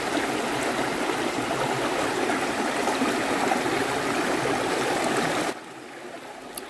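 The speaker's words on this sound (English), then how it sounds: "especially when you hear the sounds of the water gushing" A stream outdoors gushes with steady broadband rushing and splashing water, loud and continuous, then cuts abruptly to a quieter, thinner flow near the end.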